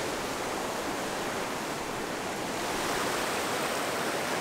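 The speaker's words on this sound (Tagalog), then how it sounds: "Kung saan na dito na ang rumaragas ng tubig." Rushing water at Quipot Falls, a waterfall in the Philippines, pouring as a steady broadband roar, loud and close with no pauses.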